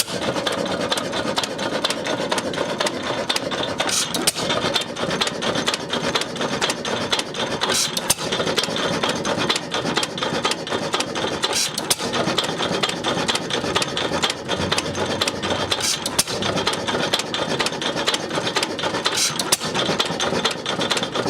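A vintage Lister Model EW stationary diesel engine running steadily, loud and close, with a continuous mechanical clatter and rasping rhythm throughout, no voices.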